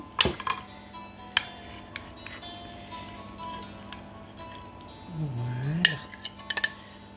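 Cauliflower gratin with cheese béchamel is served onto a plate, with sharp clinks of cutlery against dishes, a scrape of a serving utensil and the soft thud of a dish being set down, all close and fairly quiet.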